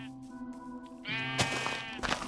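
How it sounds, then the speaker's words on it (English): Sheep bleating in the Minecraft video game, a few drawn-out nasal bleats in quick succession, close and fairly loud over a quiet ambient game background. "Closest sheep over there near zombies."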